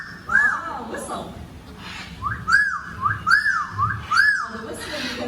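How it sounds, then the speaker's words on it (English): A talking bird at a bird park whistles in short rising-and-falling phrases, several in a row, answering a presenter who speaks and whistles along over crowd murmur. "The bird here is doing all the talking. Let's whistle together. Whistle."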